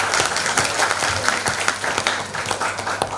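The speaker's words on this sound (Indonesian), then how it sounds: "Tepuk tangan dong untuk." Audience applause at a national training event for advocates and paralegals, steady crowd clapping with individual claps poking through, continuing evenly without speech.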